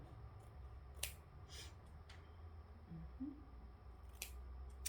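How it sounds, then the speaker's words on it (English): Scissors snip through fabric close to an embroidered shadow-block monogram, a few quiet, separate cuts over a low steady background hum with no talking. "You want to cut it as close as you can to the design."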